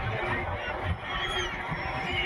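A crowd of birds at Gomti Ghat in Dwarka gives a continuous chorus of honking and squawking calls, close and loud, layered over outdoor ambience.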